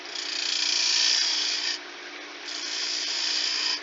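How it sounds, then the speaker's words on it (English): A spindle gouge cuts against a spinning wooden coaster on a lathe, rounding its edges: a bright, steady hissing scrape that dips briefly midway, then resumes, close and alone. "Then we're taking our spindle gouge again and we're just rounding top and bottom."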